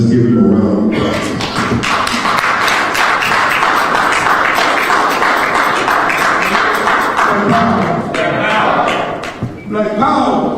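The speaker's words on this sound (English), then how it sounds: "Let's give him a round of applause." Audience at an Indianapolis town hall on racism breaks into loud, sustained clapping and cheering that fills the room for about ten seconds, with voices mixed into the applause.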